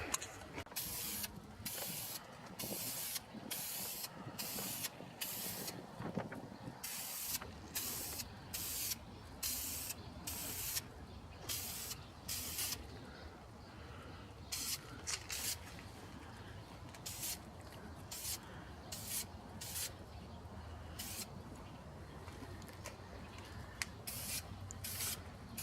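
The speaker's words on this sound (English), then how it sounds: "So now we're gonna spray the top coat on." Repeated bursts of an aerosol spray can hiss on and off in short and long blasts, close by, with faint rattling and handling between sprays.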